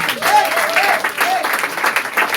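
A church congregation applauding to acclaim the Lord, a steady, close wash of clapping from many hands with voices calling out over it.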